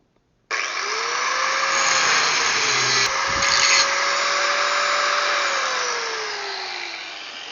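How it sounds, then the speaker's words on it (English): An angle grinder starts abruptly and grinds old weld off metal in a loud, sustained whine that shifts in pitch as the disc bites and eases, close by. "now we have to take and grind off all this old weld"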